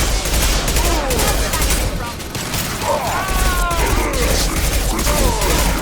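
Sustained volleys of gunfire from a Mass Effect 2 firefight roll on dense and loud, with sharp sci-fi weapon effects sweeping through and a voice calling out over the shooting.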